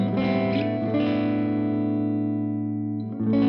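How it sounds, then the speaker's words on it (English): Electric guitar with the bridge pickup volume rolled off gives a warmer, neck-pickup-like tone, with a few close, sustained chords ringing out and slowly decaying before a fresh strum near the end, with no voices. "I get this more warmer, like neck pickup-y sound."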